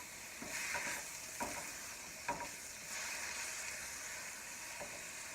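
Vegetables sauté in a wok for a lobster and shrimp stir fry with a continuous moderate sizzle, punctuated by several spatula scrapes and taps against the pan.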